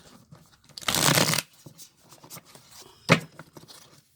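Tarot cards are shuffled in a short riffling burst, a pause follows, then a brief second flick of the deck, close and fairly soft in a quiet room.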